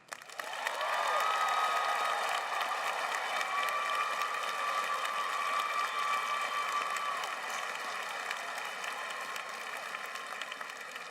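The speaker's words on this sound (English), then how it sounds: "Join me, please, in a round of applause for our faculty." Sustained applause from a large audience at a 2018 undergraduate graduation ceremony honoring the faculty, steady and full for the whole stretch and tapering slightly toward the end.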